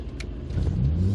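A 1986 Austin Maestro 1.6 HLS on the road, its engine rumble building and swelling over the last half-second under a faint cabin hiss.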